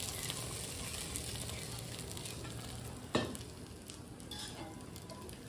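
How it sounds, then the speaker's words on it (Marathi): Thin ghavan rice batter sizzles on a hot tawa, a faint, even crackling hiss broken once by a sharp clink of a utensil against the pan, then settling back into quiet sizzling. "घावणा तव्यावर टाकलेला आहे."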